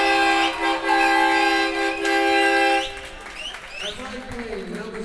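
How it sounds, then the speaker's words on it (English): A loud, sustained air horn blares for nearly three seconds at a high school hockey game, then cuts off, leaving crowd noise and cheering behind it. "We got the air horn in the house."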